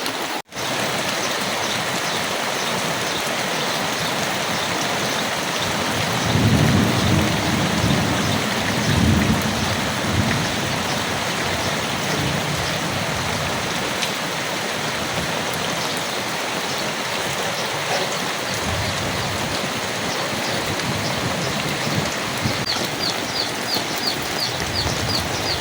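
Rain falls steadily during a Kalbaishakhi storm in a village, a constant loud wash with low rumbles of thunder rolling in around the middle of the stretch and no one speaking.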